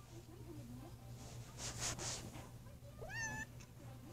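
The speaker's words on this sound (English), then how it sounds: "Say meow to the peoples." A pet cat gives a short meow near the end, a rising then falling cry, after an owner's coaxing voice and over a steady low household hum.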